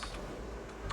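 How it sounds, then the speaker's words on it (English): Keyboard typing picked up over a Skype call during a Magic 2015 tournament broadcast, a brisk cluster of clicky keystrokes close to the microphone, heard alone over a steady hum. "We could all hear your keyboard typing"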